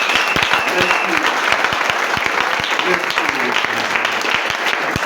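Church congregation in a full-gospel tabernacle clapping and cheering loudly, with dense sustained applause and voices calling out throughout.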